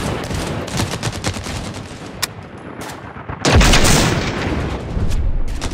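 Rapid gunfire and heavy booming blasts from a video game battle in a hotel at night, dense and loud, with a sharp surge of explosive noise partway through.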